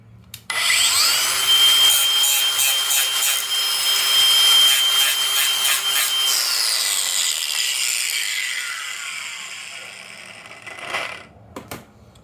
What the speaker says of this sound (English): Now we're just gonna take our angle grinder and we're just gonna get rid of any burrs on there.